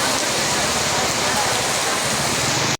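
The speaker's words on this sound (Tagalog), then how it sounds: "Lakas ang ulan dito." Heavy rain pours down outdoors on election day in the Philippines, a loud, unbroken wash of rainfall hitting surfaces close by for the whole stretch before cutting off abruptly.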